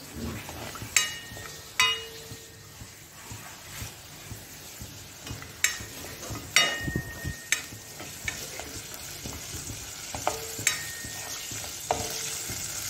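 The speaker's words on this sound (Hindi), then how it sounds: "मच्छी को अच्छे अच्छा तल लेंगे" Fish fries in about three teaspoons of oil for baigan machchi salan, a steady close sizzle broken by sharp clinks and scrapes of a utensil against the pan at irregular intervals.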